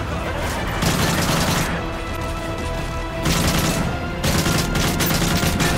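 Gunfire in Call of Duty Modern Warfare 3 comes in dense automatic bursts separated by short gaps, loud and close, over a rumbling battle background.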